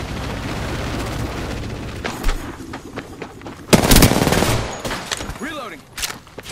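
Gunfire in the video game Apex Legends: bursts of rapid shots with a loud cluster of blasts mid-way, set among other game sounds, with no talk.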